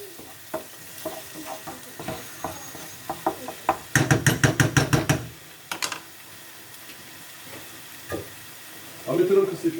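Minced meat fries in a pan with a low sizzle, broken by irregular spatula scrapes and a quick run of rapid clicking strokes midway, with faint murmurs of talk in places.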